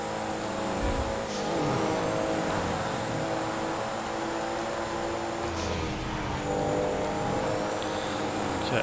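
A Porsche 911 Turbo S with 540 horsepower cruising a highway in GTA 5, its engine droning steadily with shifting revs and a couple of brief whooshes from passing traffic, loud and continuous throughout.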